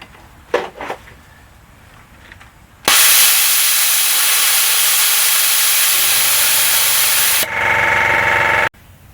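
Compressed air bursts out through the solenoid drain valve of an air compressor: a sudden loud, steady hiss lasting about five seconds that then drops to a lower-pitched rush before cutting off, after a few soft knocks and rustles.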